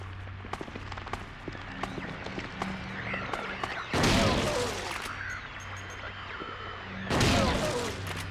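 Shotgun blasts in the survival horror game Silent Hill 2 on PS2: two loud, booming shots a few seconds apart, each standing out sharply over a busy background of game sound.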